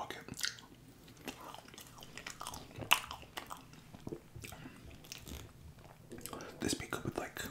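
Vanilla ice cream eaten close to the mic, with soft wet bites, squishy chewing and mouth sounds scattered irregularly at low volume, broken by brief quiet whispered speech.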